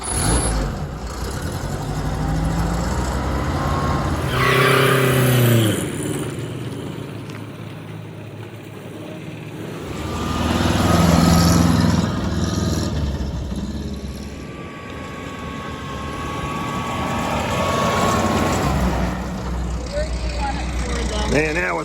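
A small M422 Mighty Mite military jeep engine turns over and runs with a steady, close mechanical drone that swells and eases for about twenty seconds, with excited voices talking and cheering over it.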